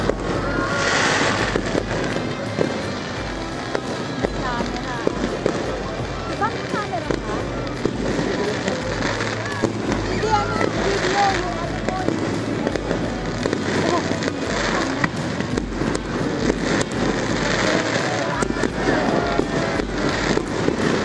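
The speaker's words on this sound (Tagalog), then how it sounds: "panoorin natin hanggang sa matapos natin itong fireworks ngayong" Continuous fireworks crackle and booms throughout an annual All Saints' Day fireworks display, with a noisy crowd chattering and calling out underneath the bursts.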